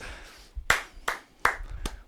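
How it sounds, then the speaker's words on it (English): Four separate hand claps from a single person, spaced about a beat apart, close and sharp against a quiet room at a yoga class. "We got a round of applause."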